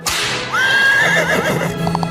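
A horse whinnies loudly and close, a long wavering neigh that rises and falls for over a second, set in a comic sketch with a brief noisy burst before it and faint clatter after.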